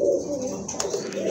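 Fancy crested pigeons offered for sale give a close, continuous low throaty coo that rolls and wavers for over a second, with a faint chirp-like click partway through.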